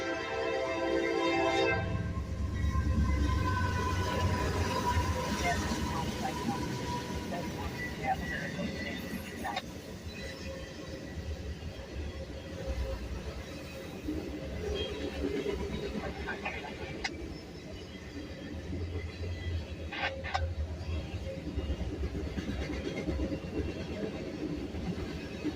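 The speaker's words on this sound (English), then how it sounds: "So this train is going on a video. We're at Lake Avenue in Lackawanna." A train passes at the Lake Avenue crossing in Lackawanna, opening with a loud, sustained horn blast, then a steady rumble of cars rolling by, with some voices nearby.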